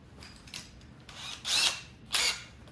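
A power drill with an extended bit bores pilot holes through large mounting holes on a 2022+ BMW K1600 during an audio kit install, with two short, loud whirring bursts after quieter handling noises.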